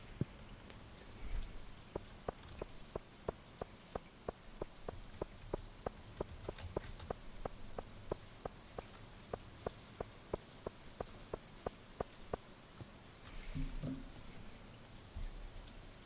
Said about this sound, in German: Das ist immer so kacke, wenn es in dem Game regnet